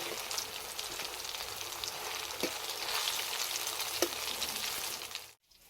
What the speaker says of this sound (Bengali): তো বড়াগুলো আমি এইভাবে লাল লাল করে ভেজে নেব।